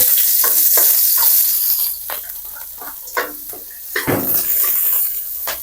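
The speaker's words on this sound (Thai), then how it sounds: "ผัดผักบุ้งเนี่ยใช้ไฟแรงๆนะครับ แล้วก็ใส่พริกกระเทียมลงไป" Loud sizzling and hissing from morning glory, chilli and garlic stir-frying over high heat in a hot wok, with scraping stirs and clinks of a utensil against the metal in irregular bursts.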